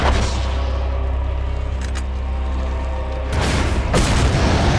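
A rocket launcher explosion in the Resident Evil 4 HD video game lands during a boss fight as a heavy, sustained rumbling boom, with two more sharp blasts bursting out near the end.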